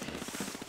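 Rapid, evenly spaced shots ring out from the silver gun in the Splatoon 2 video game, a fast machine-gun-like rattle over steady game background noise.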